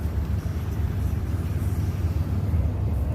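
Engine of a 2007 Toyota Tundra V8 extended-cab pickup with 8 ft bed reversing slowly, a steady low idling rumble close by with no talk.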